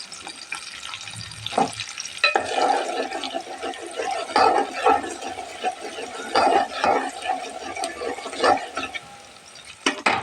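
Spice paste with ginger and garlic sizzles and crackles in a pan for a turnip-and-meat dish, with bursts of frying and stirring scrapes that rise and fall unevenly, close and moderately loud, with no talk.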